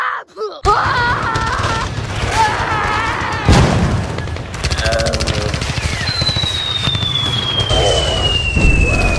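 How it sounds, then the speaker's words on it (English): A loud firework bang followed by rapid crackling bursts and a long descending whistle, continuous and close, with some vocal sounds mixed in. "Firework Freddy didn't let go of his firework."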